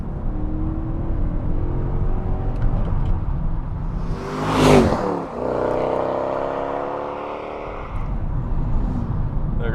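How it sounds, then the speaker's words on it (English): A manual-swapped Mercedes C63 AMG engine revs up quickly, rising to a sharp peak midway before dropping back, heard from inside the car with a steady rumble before and after. "Wow, it revs up quick."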